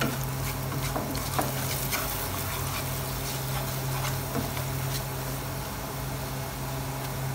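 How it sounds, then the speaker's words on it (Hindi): Dry coriander, cumin powder and other masala roasting in a pan for a dhaba-style shahi daal, giving a steady soft sizzle with scattered scraping stirs and a constant low hum, no voices. "सारे मसाले डाल के इनकी करते हैं अभी थोड़ी देर भुनाई"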